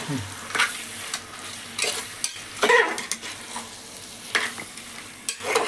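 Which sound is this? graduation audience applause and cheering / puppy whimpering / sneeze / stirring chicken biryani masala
stirring chicken biryani masala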